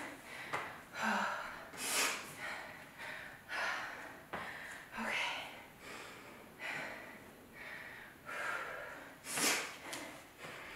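Repeated sharp sniffs and snorting breaths in a steady rhythm, close and fairly loud, from someone sniffling through the nose during a full-body workout.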